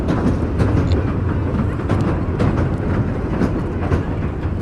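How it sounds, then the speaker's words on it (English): A train pulls out of a seaside pier station, its steady rolling rumble and clickety-clack of wagons continuous and fairly close throughout, with no voices. "There goes the train out of the station."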